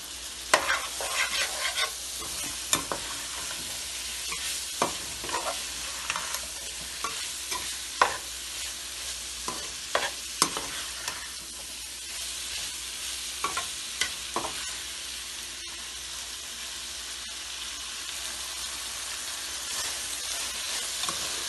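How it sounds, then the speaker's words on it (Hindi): Frozen peas fry in a hot pan with a steady sizzle, broken by regular scraping and clinking as a spoon stirs them, close and fairly soft throughout. "मटर डालेंगे, ये फ्रोज़न मटर, इसको थोड़ा सा भूनेंगे।"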